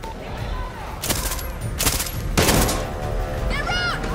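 A firefight in Far Cry 6 with scattered loud gunshots and short volleys over a constant rumbling background, while voices talk throughout.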